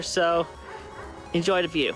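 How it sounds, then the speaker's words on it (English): Dogs bark and yip in the background in two short bursts, one near the start and one near the end, under a person speaking. "you could hear the dogs barking in the background"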